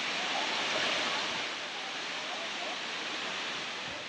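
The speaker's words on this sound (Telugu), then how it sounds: "This is the false." Muthyala Dhara waterfall, a tall forest cascade of about 700 feet, roars as a broad, steady rush of falling water, constant and enveloping, with no breaks.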